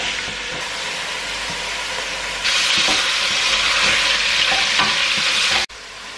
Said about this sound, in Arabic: هندي التوابل دي بقى كده تشويحة مع اللحمة